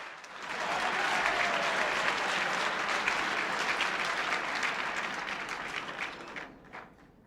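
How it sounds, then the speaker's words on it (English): An audience at a 1994 Boston reception breaks into a full round of applause for the mayor, swelling quickly, holding dense and steady, then fading out toward the end. "Let's give Mayor Menino a wonderful round of applause."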